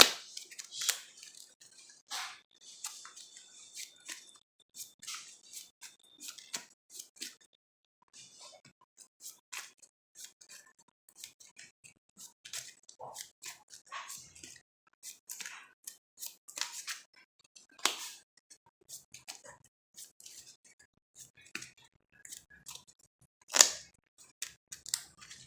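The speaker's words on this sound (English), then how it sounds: "now we're back with the shuffling process." A trading card game deck is shuffled by hand on a table, a long run of crisp, irregular snapping and riffling card clicks, close and fairly quiet, with no talking.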